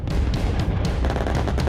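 Explosions and gunfire during a joint US and South Korean military exercise, heard as a dense, continuous rumbling barrage of blasts and crackling shots with no pauses, loud and close throughout.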